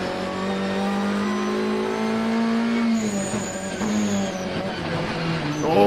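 Ferrari and Audi GT race cars battle on the track at Zandvoort, with loud sustained engine roar, shifting pitch as they rev and change gear, and a higher whine rising near the end.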